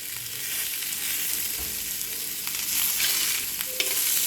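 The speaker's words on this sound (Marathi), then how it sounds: "दुसऱ्या बाजू पलटल्यानंतर थोडंसं तेल टाकून घ्यायचं आहे आणि त्याला पण दोन मिनटं आपल्याला शेकून घ्यायचं आहे" Fish shallow-fries in a pan with a little oil, giving a dense, steady sizzle and crackle at close range.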